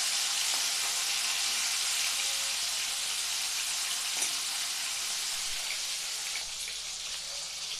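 Hilsa tail, prawns and bata fish fry in hot oil in a pan, giving a dense, steady sizzle that holds level throughout with small pops and crackles scattered through it, no voices present.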